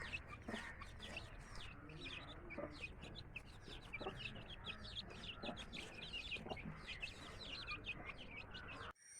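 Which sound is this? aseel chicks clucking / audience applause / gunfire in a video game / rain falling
aseel chicks clucking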